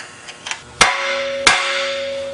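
Two sharp, loud metal hammer strikes ring out close up as a ball joint taper is knocked loose on a motorhome's front control arm, a faint tap or two before them and a lingering metallic ring after.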